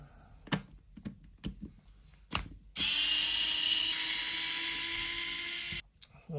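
A power drill backs screws out of a Traxxas Maxx RC differential, running in one steady, loud, high whine for about three seconds after several sharp clicks and taps of handling the parts.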